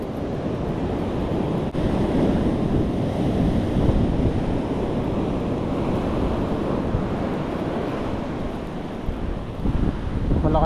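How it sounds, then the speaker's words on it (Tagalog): Strong ocean waves crash and surge against a shoreline, a continuous loud roar of surf mixed with gusty wind buffeting the microphone, with no voices. "Malakas yung alon."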